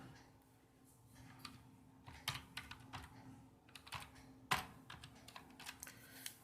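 Keys are pressed on a computer keyboard to take a Windows screenshot, giving scattered, quiet plastic clicks and taps at close range, with one sharper click standing out near the end.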